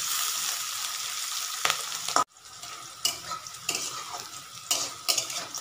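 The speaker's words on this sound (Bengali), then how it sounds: "করে একটু লালচে করে ভেজে নেব আমি" Green chili, onion and garlic fry in hot oil, sizzling steadily and close, broken by a few sharp stirring scrapes and clinks of a utensil against the pan.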